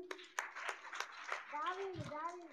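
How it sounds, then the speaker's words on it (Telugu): Children clapping at a vacation Bible school session, a few sharp separate claps spaced out at first, then a voice speaking over the end. "గట్టి క్లాప్స్ కొట్టండి."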